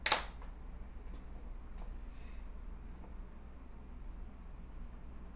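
A pencil drawing of a teapot being erased, a brief sharp scrape at the start followed by faint, soft rubbing against paper, close and quiet with no voices.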